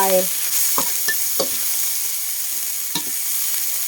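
Meatballs stir-fried in a hot pan give a steady sizzle, broken by a few scraping stirs of the spatula, close by with no talking.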